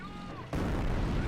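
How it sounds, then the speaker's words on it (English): An incendiary mortar round from Company of Heroes lands with a sudden loud burst that turns into a sustained crackling rumble, following a brief quieter moment. "Oh, incendiary mortar there."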